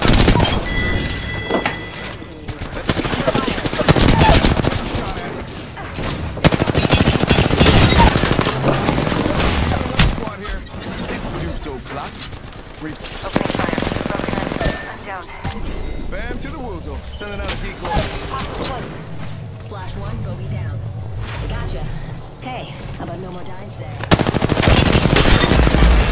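Apex Legends gunfire rattles in long, dense automatic bursts with sharp single cracks and a few booms, loud and close, while voices talk over much of it.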